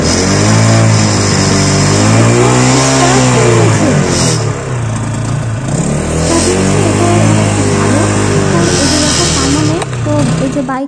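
A motorbike with an engine fault idles loudly up close, its revs rising and falling on their own in an uneven surging rhythm, with a person talking over it.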